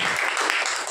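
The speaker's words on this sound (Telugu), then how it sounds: "చప్పట్లు కొట్టి" A church congregation at a Sunday worship service bursts into loud, dense applause that fills the short moment at close range.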